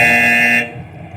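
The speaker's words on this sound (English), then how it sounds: "And we got a buzzer." A loud, steady electronic buzzer blares during a political game-style show, a harsh sustained tone that cuts off abruptly after about half a second, leaving faint room noise.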